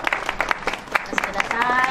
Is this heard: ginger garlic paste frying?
no